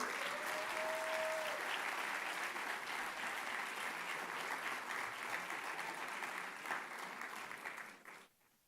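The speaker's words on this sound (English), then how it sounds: "Let us celebrate this moment with a huge round of applause, ladies and gentlemen." Sustained audience applause at a university special convocation ceremony honouring an honorary doctorate, a dense even wash of clapping from a large crowd that continues for several seconds before fading out abruptly.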